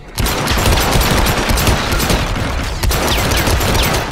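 Rapid, continuous gunfire from a firefight in the stealth action game Hitman Absolution, loud and dense with barely a break across the whole stretch, no voices.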